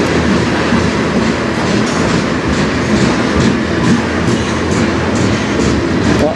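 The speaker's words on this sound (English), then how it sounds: "A lot faster than this train normally goes at this time." A train on the Strathroy Sub rushes past at speed, a loud, continuous roar of wheels and cars with rhythmic clicking, close and filling the whole stretch without pause.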